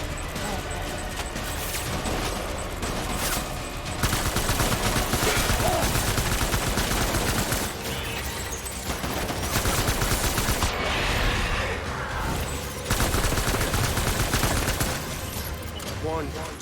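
Enemy gunfire in the video game Death Stranding, a steady stream of shots and rapid bursts running throughout at high intensity, mixed with other game effects.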